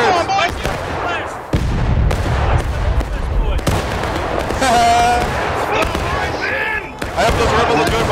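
Musket volley fire during a War of Rights video game battle, with repeated loud cracking bursts and rolling gunfire across several seconds, broken by brief lulls, while voices shout over the din.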